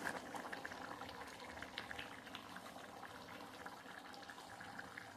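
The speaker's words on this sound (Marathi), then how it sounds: "हे पाच छान रटरट शिजून द्यायची" Pavta bean usal curry bubbling steadily in a pot on the stove, a continuous close simmering boil with dense popping and gurgling and no talk over it.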